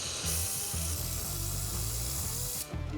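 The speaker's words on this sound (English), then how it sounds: "so let's weld this up" Steel being welded with carbon steel filler wire, a steady, dense crackling hiss that runs unbroken for a few seconds, with a low pulsing rumble beneath it.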